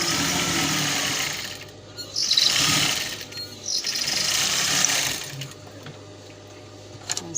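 Sewing machine running along the side seam of a folded sleeve, in bursts of steady whirring stitching that stop and start, close and moderately loud with no talking.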